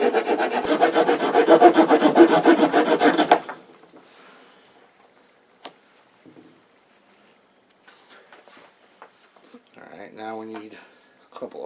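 A saw cuts through a piece of wood for a Sami tinder pouch, giving a loud, steady rasping stroke for about three seconds. Quieter handling clicks and a brief sound of a voice follow.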